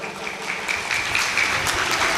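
Audience applause at a devotional Bhagavat katha gathering, a steady wash of many hands clapping together, moderately loud and sustained without speech on top.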